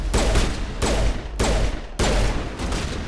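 Four heavy shots from a hand cannon pistol in the video game Mass Effect ring out at roughly even intervals, each a loud sharp boom followed by a rumbling echo that fades before the next.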